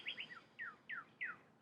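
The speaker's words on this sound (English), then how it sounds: "Hear the bird song." Birdsong close and clear: a short series of five or six bright, descending chirped notes in quick succession against quiet background.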